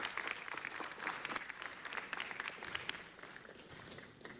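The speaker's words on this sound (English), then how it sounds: "Give them a big round of applause." Sustained applause for a high school boys soccer team fills a city council meeting chamber, dense clapping from a crowd continuing steadily throughout at a moderate distance.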